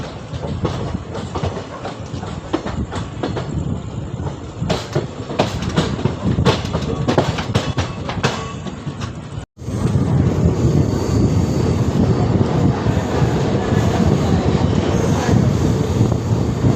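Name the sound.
Thiruvananthapuram Central–Mangaluru Central Intercity Express train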